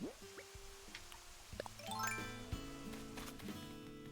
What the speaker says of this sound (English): Actually, while I'm up here, I might as well fill in this water.